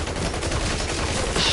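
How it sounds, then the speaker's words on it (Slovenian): Rapid gunfire in the video game Battlefield Heroes, shots aimed at a wall, a dense continuous burst that fills the whole moment loudly with no pause. "jaz pa v steno streljam"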